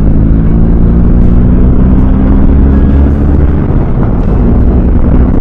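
BMW R18 bagger motorcycle with a big boxer engine, heard close and loud under steady throttle, a dense continuous roar with rumbling low pulses and rushing wind that holds strong throughout.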